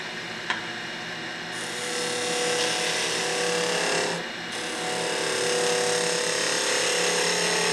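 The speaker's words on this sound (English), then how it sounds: "I'm getting a really, really good shearing cut from that." A skew chisel makes a shearing cut on wood spinning on a lathe, producing a steady, loud, continuous hiss and rasp over the lathe's hum, with a short dip partway through before the cut resumes.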